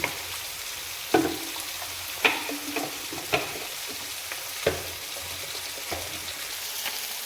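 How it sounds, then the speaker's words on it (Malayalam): Fish, a vala fry, crackles in hot oil alongside onion, with a steady close sizzle broken by several sharp scraping knocks of a spatula stirring the pan at irregular intervals, no voices. "മീൻ ഇങ്ങനെ വെന്തുകൊണ്ടിരിക്കുന്നുണ്ട്"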